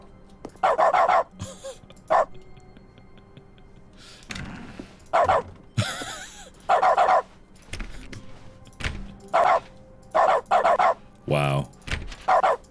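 A dog barking in the Stanley Parable: Ultra Deluxe video game, repeated close, loud bursts in an uneven rhythm with short pauses and an occasional thump between them.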